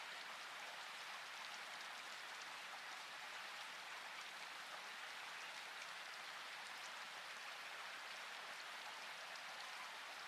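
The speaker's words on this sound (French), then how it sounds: "attention au son de la pluie qui tombe doucement" Gentle rain falling on the ground, a constant, even wash of soft patter with no gaps, heard alone.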